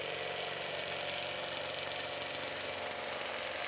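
A quilting machine stitches out a design on a Christmas tree skirt in shimmering white thread on satin, giving a steady, fast mechanical whir and patter at moderate volume with no talk.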